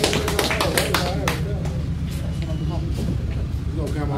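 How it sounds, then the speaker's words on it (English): Battle rap crowd clapping in a quick burst of sharp claps at the start, thinning out under steady crowd noise and background chatter. "clap it up, man."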